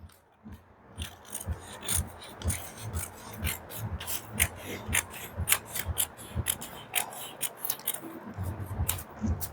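Scissors snip through blouse sleeve fabric in a steady series of close, rasping cuts, repeated roughly every half second, with no voices.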